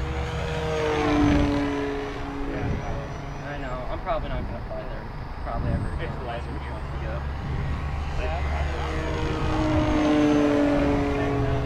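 RC model airplane flying a knife edge loop at a competition, its engine droning steadily and swelling loud and faint as it passes, with people talking over it throughout.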